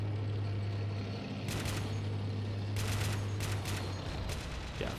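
Bursts of gunfire crackle through a British armoured assault in the Red Rising mod, several sharp volleys stacking over a steady engine hum at moderate distance, with no talk.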